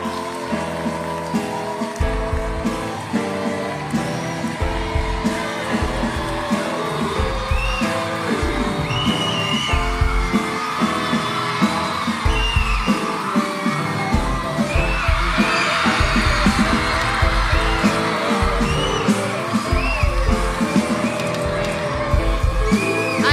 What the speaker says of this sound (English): Let us put our hands together as we welcome Mommy Juliet.